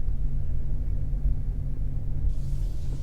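A 2004 Honda Accord EX V6 eases backward out of a driveway, its engine a steady low rumble at close range with a soft hiss rising near the end; no talking.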